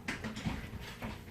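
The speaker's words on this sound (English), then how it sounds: "Pardon my dogs barking" Dogs bark and whimper faintly in the background, a few short yelps over a low, muffled room sound.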